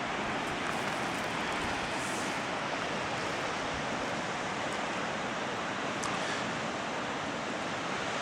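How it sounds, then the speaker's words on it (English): A river and waterfall in a gorge at Arroyo Seco make a steady, continuous roaring rush of water, with some wind buffeting the microphone and no voices. "As you can see, the river, and there's a waterfall"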